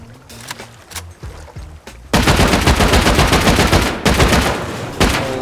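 Rapid automatic gunfire erupts against a base in the game Rust, loud dense bursts of shots after a few scattered earlier cracks.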